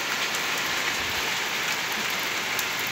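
Light rain falling outdoors, a soft continuous hiss of drops on surfaces with no voices.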